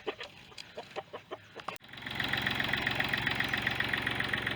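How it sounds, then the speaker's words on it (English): Crowded chickens clucking steadily on a three-tier trailer loaded for a move, a dense continuous din of fowl with engine idle underneath, preceded by a few sharper separate calls. "So we got 3 stories of chickens all ready to go."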